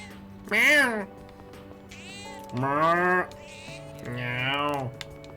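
Cat meows in the video game Persona 3 Reload, three drawn-out mews in a row against a steady game music backdrop, clear and close.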